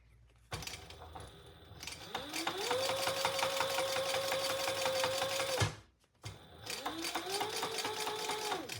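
A sewing machine topstitches a shoulder bag, running in two long, steady, close whirring bursts with a brief stop between them, and a light rattle starts each run.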